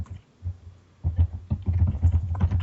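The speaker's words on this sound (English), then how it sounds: "Whoa, loud typing is loud." Loud typing on a computer keyboard, close and thumping, sparse keystrokes at first, then a dense run of heavy clacks for the second half, with no talking.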